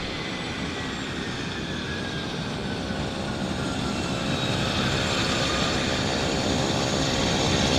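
An aircraft taxiing at Vancouver airport, a steady broadband engine roar and whine, slowly growing louder as it moves, with no voices.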